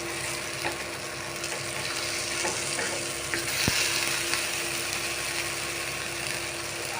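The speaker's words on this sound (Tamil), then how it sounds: "இப்போ பார்த்தீங்கன்னா நல்லா ஃப்ரை ஆகிட்டுருக்கு" Food frying in hot oil until crisp, a dense, loud, continuous sizzle close by, with a single faint clink partway through.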